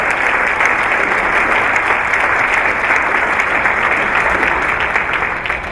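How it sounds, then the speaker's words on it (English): A school district audience gives steady, loud applause for newly named school principals, a continuous dense wash with no break. "Please stand. Give them a round of applause."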